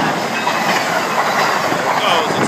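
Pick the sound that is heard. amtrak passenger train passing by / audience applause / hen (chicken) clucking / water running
amtrak passenger train passing by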